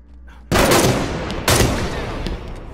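Gunfire in Halo 5, two sharp loud bursts of shots about a second apart, each trailing into a dense ringing decay, with no voices.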